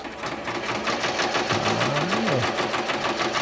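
An embroidery sewing machine stitches buttonholes in a fast, steady mechanical rhythm, loud and close, with a brief whirring shift in pitch partway through.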